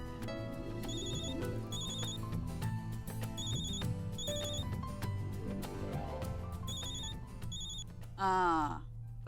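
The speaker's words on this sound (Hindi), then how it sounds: "पता है किसका फोन आया है।" A telephone rings in repeated bright electronic bursts over a steady music bed, the rings spaced evenly across the clip before a short rising tone at the end.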